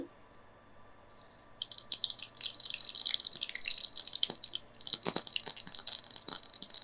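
Mustard seeds splutter and pop in hot oil in a pan, starting quietly and then growing into a dense, steady crackle of quick sharp pops, close up.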